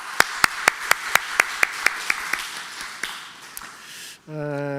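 A church congregation gives a short run of about a dozen sparse, evenly spaced claps for the volunteer service team that prepared the summer meal, fading off before a tone sounds at the end.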